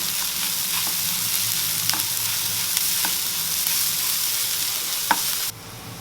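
Onions sautéing in a pan with salt for a Tamil egg gravy, a steady dense sizzle with a few faint stirring clicks throughout, dropping off abruptly near the end.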